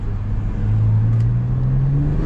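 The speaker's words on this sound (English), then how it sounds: "I'm gonna put it in comfort mode, and you're just gonna hear the upshifts" Exhaust of a Stage 2 tuned, 600 horsepower 2020 BMW M340i accelerating in comfort mode: a loud, close, steady engine drone that climbs gradually in pitch, heard alone.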